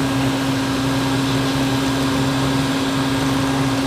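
A vacuum hose draws southern yellow jackets out of an in-ground nest, a steady, loud motor drone with constant suction hiss and no pauses.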